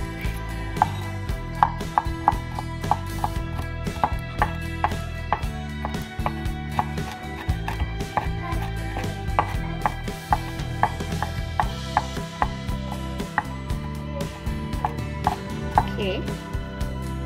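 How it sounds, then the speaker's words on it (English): Garlic cloves chopped with a knife on a cutting board while preparing a stir-fried oyster mushroom dish, a steady run of quick, crisp taps close by over background music. "We're gonna chop these up."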